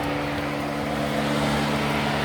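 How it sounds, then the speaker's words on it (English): A steady electric radiator fan hums on a turbocharged fourth-generation Camaro with the engine off, a constant whirring drone with faint tonal lines, fairly quiet and unbroken throughout. "you can hear the fan actually running right now"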